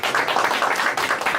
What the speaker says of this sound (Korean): 박수가 나올 줄 알았습니다.